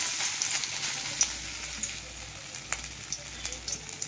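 Green pea fritters fry in hot oil in a wok, giving a steady close hiss of sizzling with small crackles and pops scattered throughout, no voices over it.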